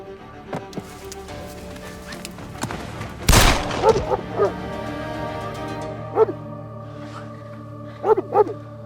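Dogs bark and whimper in a wooded setting in a Turkish drama scene, with one sharp loud crack midway and scattered yips and cries recurring through the rest, over a steady low background.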